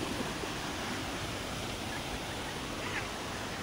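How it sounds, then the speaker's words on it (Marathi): A waterfall in heavy rain at Randha Falls, Bhandardara, gives a dense, even roar of rushing water that fills the whole stretch without any break. "तुम्ही बघू शकता हे कॉफीचा धबधबा आहे"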